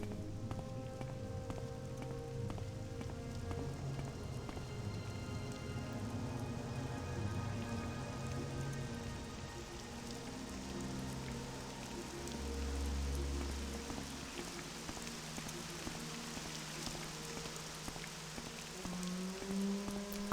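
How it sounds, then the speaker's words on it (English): Steady, faint rain patters and splashes on surfaces in the video game Morrowind. The continuous wash has a low undertone that swells briefly midway, and no one speaks. "Well, if the rain keeps up,"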